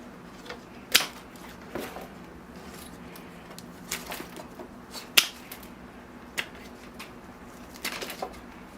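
Sharp shears snip guava bonsai roots during repotting, giving scattered crisp clicks at irregular intervals, a few louder cuts standing out against a quiet background.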